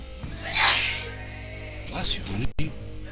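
A single sharp sneeze bursts out near the start, followed by a quieter breathy sound and brief talk in a casual indoor setting.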